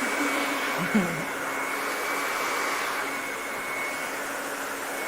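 Steady hair dryer blowing while hair extensions of a quick weave are blow-dried, a constant loud whooshing hum that runs unbroken throughout with no talk.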